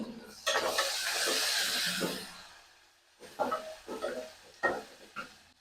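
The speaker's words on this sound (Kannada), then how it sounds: "ದೆನ್ ನಾನು ಇವಾಗ ಗಾರ್ಲಿಕ್ ಆ್ಯಂಡ್ ಹಸಿಮೆಣಸಿನ್ಕಾಯಿ ಹಾಕ್ತಾ ಇದ್ದೀನಿ ಪಟ್ ಪಟ್" Garlic and green chillies fry in a pan in a home kitchen, giving a loud sizzling hiss that fades, then resumes as scattered crackles and pops.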